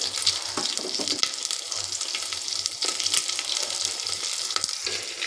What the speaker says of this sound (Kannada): ನೋಡಿರಿ ಹಿಂಗೆ ಫ್ರೈ ಆಗತೈತಿ.